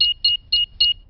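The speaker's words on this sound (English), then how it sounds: "I'll just switch the alarm off." A cartoon house alarm beeps four times in a quick even rhythm, each a short bright electronic double-tone, loud and alone.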